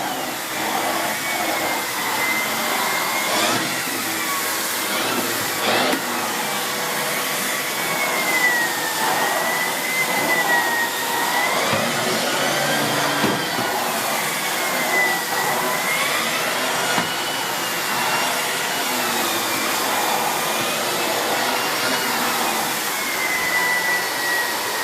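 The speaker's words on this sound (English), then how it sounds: "all it does on the lino is just clamps itself down, and then you can hear the brush damaging the lino underneath there" A Dyson cordless stick vacuum cleaner runs with its brush head on a lino floor. It gives a steady, loud, close motor whine with a rough brushing texture that continues unbroken for the whole stretch, with no talking.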